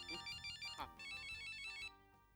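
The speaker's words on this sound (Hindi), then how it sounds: "सर आपका फोन।" A phone ringtone plays a bright, repeating electronic melody for about two seconds, fairly faint, then stops.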